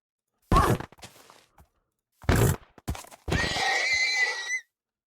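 A Minecraft horse gives a loud, close neigh, then a few snorts and thumps, and finally a long whinny that rises and falls before stopping.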